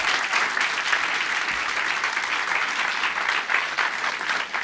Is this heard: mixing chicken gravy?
no